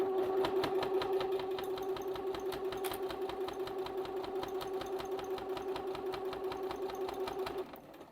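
A sewing machine runs steadily, stitching fabric for a beginner's glasses pouch with a fast, even mechanical rhythm and a humming motor, then stops abruptly near the end.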